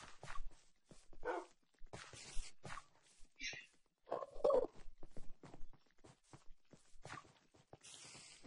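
A dog in the Super Smash Mobs Minecraft minigame gives short barks and yips amid game footsteps and clicks, with people talking over it in places.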